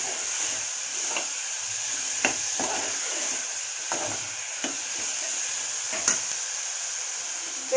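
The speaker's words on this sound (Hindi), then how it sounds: "तेल पे भून लेती हूँ।" Mixed leftover vegetables with potato sautéing in oil in a pan, a steady close hiss and sizzle with scattered small clicks of stirring, no talk over it.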